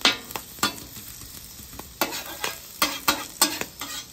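Garlic, ginger and peppers sizzle in a couple tablespoons of oil on a griddle set to low, a steady hiss broken by sharp scraping stirs every half second or so, close and clear with no voices.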